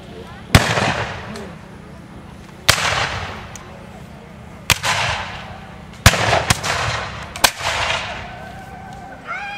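Sharp, echoing gun volleys ring out at a Battle of Okeechobee reenactment as Seminoles fire on the 4th Infantry, several loud cracks spaced a second or two apart, each trailing off, with softer pops between.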